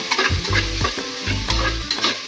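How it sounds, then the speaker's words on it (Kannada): Spices and chili powder sizzling in hot oil in a pan while a spoon stirs and scrapes in a steady rhythm, close and fairly loud. "ಇಷ್ಟು ಸೇರಿಸ್ಬಿಟ್ಟು ಸ್ವಲ್ಪ ಫ್ರೈ ಮಾಡ್ತೀನಿ"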